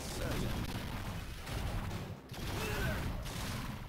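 Grenade launcher blasts in the video game Transformers: War for Cybertron, a dense run of booming explosions and gunfire close by, briefly dropping out once before the barrage resumes under a speaking voice.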